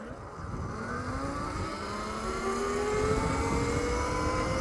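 Tuned and stock Heybike Villain electric motorbikes whine as they accelerate off the line in a street race, a rising motor pitch climbing steadily over several seconds with road rumble underneath.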